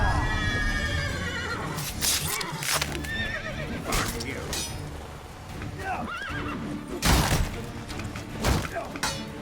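A horse in The Witcher 3: Wild Hunt neighs loudly amid galloping hoof clip-clops and combat thuds, with a voice talking over the game sounds.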